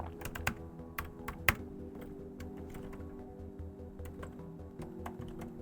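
Computer keyboard typing a date, with a quick burst of close keystrokes followed by scattered single taps, fairly quiet, with no speech.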